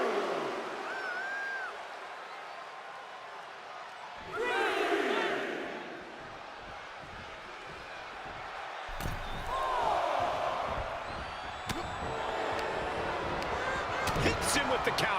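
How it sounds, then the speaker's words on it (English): An arena crowd in the wrestling video game WWE 2K23 keeps up a constant roar, swelling in loud surges around ring impacts, with a commentator talking over it. "The sound of this crowd is deafening, and he's asking for more."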